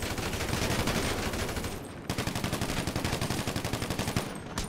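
Rapid automatic gunfire in GTA V Online rattles on steadily and close, pausing briefly once before resuming in a fast, even stream of shots.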